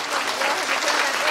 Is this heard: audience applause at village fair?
yes